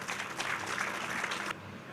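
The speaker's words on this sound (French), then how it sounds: "Sous vos applaudissements, Monsieur Ousmane Sonko" Audience applause welcoming Ousmane Sonko at a foundation-stone ceremony for a burns centre: a dense burst of clapping that holds steady for about a second and a half, then cuts off abruptly into a quiet room.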